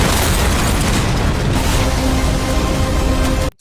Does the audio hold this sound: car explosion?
yes